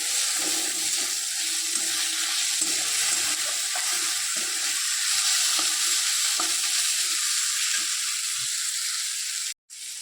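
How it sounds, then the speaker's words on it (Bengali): Steady hiss and sizzle of boiled food frying in a hot pan for biryani, continuous and fairly loud, with occasional soft scrapes and a brief dropout near the end. "এগুলো সুন্দর করে ভালো করে ভেজে নেব।"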